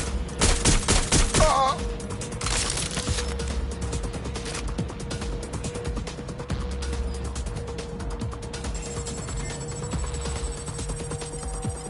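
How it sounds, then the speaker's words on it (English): Sustained gunfire in the video game Watch Dogs, a dense rattle of shots with mechanical clicks and a heavy burst early on, continuing over a steady tonal hum. "They won't stop shooting."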